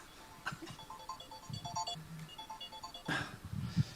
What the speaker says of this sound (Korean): 전화가 또 왔네.